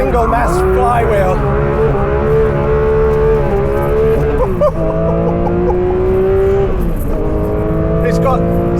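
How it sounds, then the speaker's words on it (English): A Porsche sports car's 4-litre flat-six engine with single-mass flywheel revs loudly and close, its harmonic note climbing steadily through the gears with brief shift breaks, a voice talking faintly beneath. "This engine, absolutely fantastic, 4-litre flat 6."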